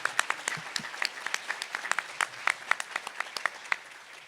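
Scattered applause for sponsors at an annual awards luncheon, individual claps distinct and uneven at moderate volume, thinning slightly toward the end.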